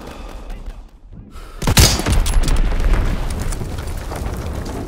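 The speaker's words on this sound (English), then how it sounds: "Enemy bomb incoming! Get to cover!" Heavy bomb blast in a Call of Duty WWII online match: a sudden loud boom after a brief lull, followed by a rolling, rumbling aftermath of debris and distant gunfire.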